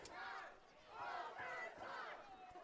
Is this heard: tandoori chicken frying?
no